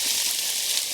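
Chicken sizzles in coconut oil in a pan over medium heat, giving a steady, fairly quiet hiss with no talk.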